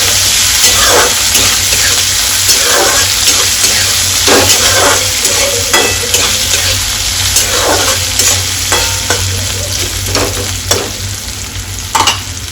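Onions and potatoes sauté with cumin in a hot pan, a loud continuous sizzle and hiss close by, broken by repeated scraping stirs of a spatula at irregular intervals, with no talking.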